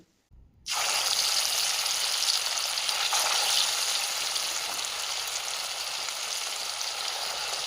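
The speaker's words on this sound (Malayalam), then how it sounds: "നമ്മൾ മാരിനേറ്റ് ചെയ്ത് വെച്ച ചിക്കൻ ഉണ്ടല്ലോ അത് വറുത്തെടുക്കാം നമുക്ക്" Marinated chicken pieces for biryani hit hot oil with a sudden burst of loud sizzling that then holds as a dense, steady hiss close by, with no one talking.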